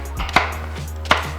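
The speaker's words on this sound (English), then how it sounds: "I'm gonna chop this into maybe 3 or 4 pieces." A knife chops a mango into a few pieces on a cutting board, with two distinct sharp chops spaced close together and heard clearly with no talking.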